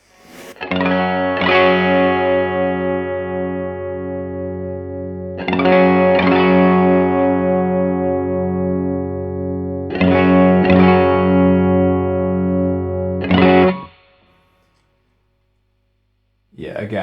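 Electric guitar played through a PRS Horsemeat transparent Klon-style overdrive pedal with the bass EQ set, heard as three sustained, driven chords of about four seconds each, loud and alone, followed by near silence and a final attack.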